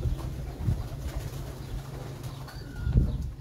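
Pigeons from a breeder's flock give low, steady cooing close by, with a couple of brief fluttering thumps and no voices.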